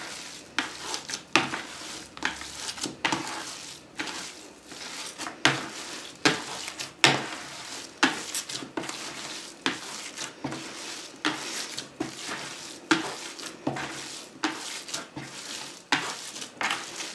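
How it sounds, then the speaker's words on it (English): Paper clay of flour and salt gets mixed by hand in a bowl, giving soft, irregular scraping and patting sounds close up, with steady rhythmic pulses and no talking. "I just start mixing it with my hand so it's mixed well."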